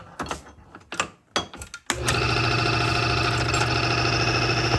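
A test engine at the Prolab factory in Quebec runs with its oil film removed, starting abruptly after a few clanks and then holding a loud, steady, rough mechanical hum.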